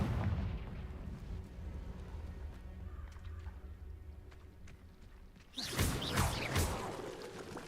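A Confringo fire-blast spell in Hogwarts Legacy erupts near the end, a sudden loud crackling burst after a stretch of quieter game ambience and low rumbles.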